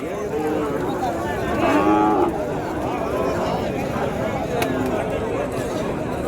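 Native cattle at a cattle market, one loud nearby moo rising out of steady crowd chatter, with people talking throughout.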